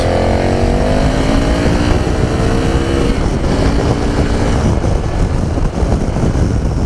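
A 2017 KTM 1090 Adventure motorcycle cruises at motorway speed, its engine a loud, steady drone mixed with heavy wind roar, continuous and close throughout.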